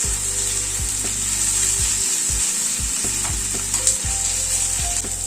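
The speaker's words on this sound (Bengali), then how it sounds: "আদা কুচিটা দিয়ে একটু নাড়াচাড়া করে নিলাম" Chopped ginger sizzles steadily in hot oil in a pan while a spoon scrapes and stirs it in repeated strokes, cooked as part of a rajma dish.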